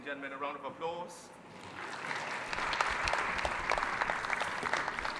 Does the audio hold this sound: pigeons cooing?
no